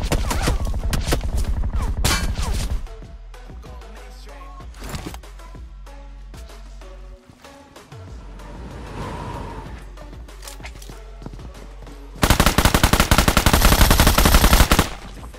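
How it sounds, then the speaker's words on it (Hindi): Automatic gunfire in the mobile shooter BGMI: loud rapid bursts open the scene, scattered quieter shots and thuds follow through the middle, and a dense, intense volley closes it. "तभी पीछे से बंदा फायरिंग करता है।"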